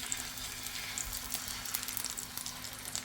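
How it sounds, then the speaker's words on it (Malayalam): Beaten eggs with green chilli, small onions, pepper and salt sizzle steadily in a hot pan, a close, continuous frying hiss with faint scraping now and then and no talking. "അതിലേക്ക് നമ്മൾ മുട്ട പൊരിക്കുകയാണ്"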